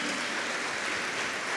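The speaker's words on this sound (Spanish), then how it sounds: "Démosle palmas a ese infinito amor." Dense, steady applause from a church congregation, a continuous wash of clapping that fills the space evenly without a break.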